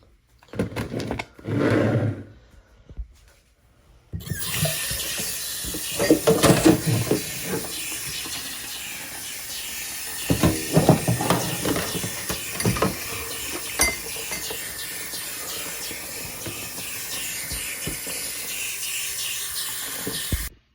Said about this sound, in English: So now I'm about to wash these dishes